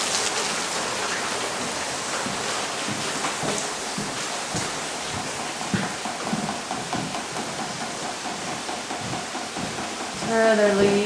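Rainwater pours and drips through a leak into a house during a storm, a steady close wash of splashing with a louder rush at the end.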